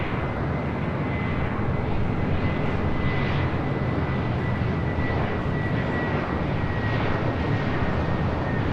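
Airplane arriving at LAX (Los Angeles International Airport), a steady loud broadband jet roar with a faint whine held throughout, continuous with no talking.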